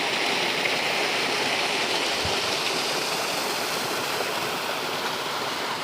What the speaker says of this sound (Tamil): இது வந்து ஒரு குட்டி ஃபால்ஸ் மாதிரி தாங்க இருக்குது